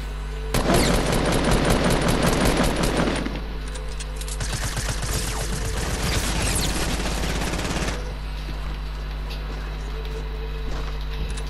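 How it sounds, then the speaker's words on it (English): Rapid bursts of suppressed SMG fire in the Fortnite video game rattle loudly and fast for several seconds, pause, then come back in a second long volley, with steady game background noise underneath. "It was a suppressed SMG."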